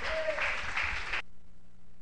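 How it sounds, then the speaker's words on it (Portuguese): Church congregation clapping during a Pentecostal-style worship service, a steady wash of many hands for about a second before cutting off abruptly to quiet room tone. "as palmas glorificam ao Rei Jesus"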